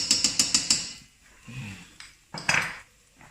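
Tomato paste being mixed with garlic and onions in a pan, heard as a run of sharp metallic scrapes and clinks of a utensil against the pan, followed by softer shuffling and a couple more close knocks.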